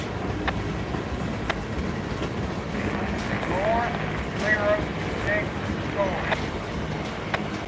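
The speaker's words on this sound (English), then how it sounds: "A set of tankers headed our way as he rolls on into the debux yard." A CSX freight train of boxcars and tankers rolls past below a high cliff, giving a steady rumbling roar with faint squealing wheel tones and some wind noise on the microphone.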